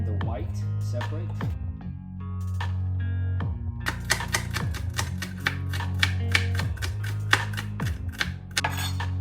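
Knife chopping green onions at an angle on a cutting board, a fast run of sharp, evenly spaced taps that starts sparse then becomes a steady rapid rhythm, close and crisp over a low background hum.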